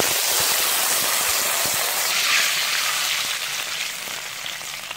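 A pot of Thai green curry bubbles and sizzles steadily up close, a dense hissing, crackling wash with small pops throughout and no voices.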